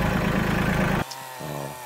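A tractor engine runs loud and close, with a heavy low rumble, at a shipping container home build site, then cuts off abruptly halfway through, leaving a quieter, lower hum.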